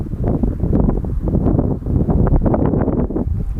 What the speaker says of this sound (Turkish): Rüzgar var biraz.